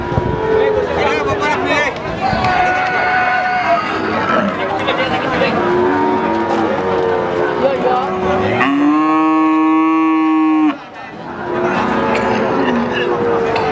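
A Limousin cow lets out a long, loud moo partway through, amid crowd chatter and other livestock sounds around it at a livestock market in Pati, Indonesia.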